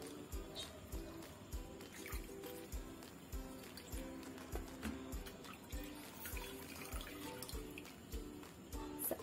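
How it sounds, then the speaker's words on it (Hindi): Soaked pieces of petha, ash gourd, are squeezed to press out the extra water, giving a steady repeated splashing and trickling into a vessel, close and continuous. "जो एक्स्ट्रा पानी है उसे इस तरह से हम निचोड़ लेंगे"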